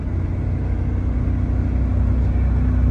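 A Mercedes CL600 BiTurbo V12 cruising at speed, its engine a dense, steady low rumble under constant road and wind noise, heard from inside the car.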